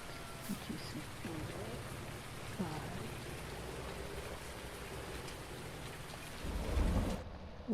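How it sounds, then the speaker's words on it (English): Steady rain falling on a farm in a thunderstorm, with a deep rumble of thunder swelling near the end over the constant hiss of the downpour. "that was a big rumble of thunder though"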